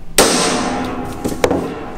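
A hammer strikes a metal plate to punch an indentation: one sharp, loud ringing clang that decays slowly, followed by a second lighter tap.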